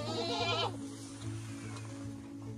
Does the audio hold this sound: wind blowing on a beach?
no